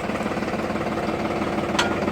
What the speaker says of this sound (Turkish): Traktörümüz çalışıyor.